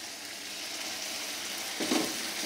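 A continuous hiss of beef fillet steak searing in a hot pan, with a brief louder crackle near the end.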